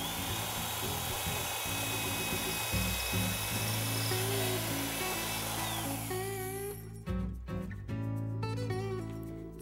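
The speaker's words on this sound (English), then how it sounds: "So I'm going to continue pre-drilling my pieces of wood" A power drill bores pilot holes into pieces of wood for a raised garden bed, running in a loud, steady whine that drops out and restarts in short bursts toward the end.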